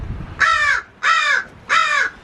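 Three loud, harsh crow-like caws sound in an even rhythm close by, from birds in a newly built aviary framed with 2x6 lumber.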